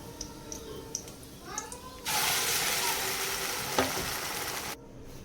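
Cashew and boiled potato paste sizzles loudly in a wok, a steady bright hiss that starts abruptly after a couple of seconds of quieter kitchen sounds and holds until it cuts off near the end, with a stir or clink partway through.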